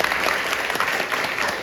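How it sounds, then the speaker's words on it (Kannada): Applause from an audience at a summer camp event in a government junior college hall, steady dense clapping held throughout, close and loud with no pauses. "ಅರೆ ಒಂದು ಜೋರದ ಚಪ್ಪಾಳೆ ಮಾಡಿ."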